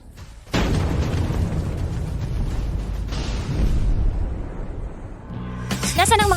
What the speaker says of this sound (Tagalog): hayaan nang sumabog ng mas malakas ang mga paputok.